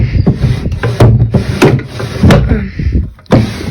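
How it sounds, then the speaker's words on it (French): Wardrobe drawers that do not close well being pushed shut in a house in Mexico, a series of close, loud wooden knocks and sliding thuds in quick succession. "Bon les tiroirs ferment pas très bien"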